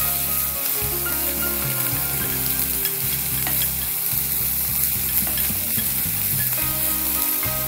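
Two small, finely chopped onions fry in a hot pan for kappa bonda, giving a steady, close sizzle broken by the scrape and clatter of stirring, with no talk over it.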